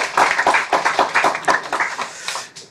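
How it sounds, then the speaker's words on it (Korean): Church congregation clapping together during a Sunday worship service, a loud room-filling burst of many hands with a roughly rhythmic pulse that tapers off near the end. "다시 우리 경례에 박수 한번 하겠습니다."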